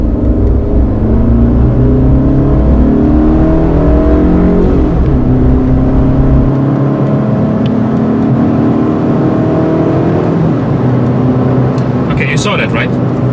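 A 2015 Fiat 500 Lounge accelerates on the road in Dubai, its engine note rising steadily through the gears with a noticeable change as it shifts, heard from inside the cabin with a faint rattle near the end.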